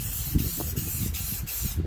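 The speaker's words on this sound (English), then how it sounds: "We're just going to take and spray that a little bit" Rust-Oleum clear gloss finish sprays from a can onto a wooden round in a close, steady hiss with slight pulsing over under two seconds.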